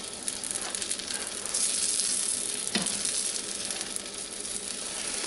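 Stovetop biscuits sizzling in a pan just after being flipped, a soft, steady frying hiss that swells briefly midway, with a small tap or clink, heard alone without talking.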